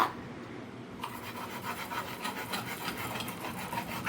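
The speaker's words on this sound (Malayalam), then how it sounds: "ഇങ്ങനെയാണ് കത്തിക്ക് മൂർച്ച കൂട്ടും കേട്ടോ" A kitchen knife blade being sharpened, a steady rhythmic rasping scrape repeated back and forth at close range, fairly quiet with no talking.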